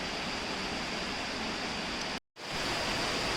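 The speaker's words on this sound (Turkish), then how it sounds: "Şelalemiz böyle. Gördüğünüz gibi iki tane kayanın ortasından akıyor." The Etler waterfall near Serik, Antalya, pouring between two rocks, heard as a dense, constant roar of rushing water with a brief dropout before it continues, no voices.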